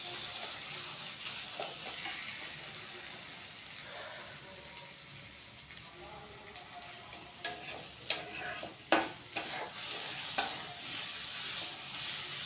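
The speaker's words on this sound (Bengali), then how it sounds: "অনেকটা এবার ভাজা ভাজা হয়ে এসছে।" Paneer filling for patishapta fries in a pan with a soft, steady sizzle, then sharper scraping and clicking stir strokes from a utensil become louder and more frequent toward the end.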